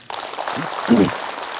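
An audience at an indoor talk session breaks into a burst of applause, a dense pattering clatter that starts abruptly and carries on steadily, with a voice briefly heard over it.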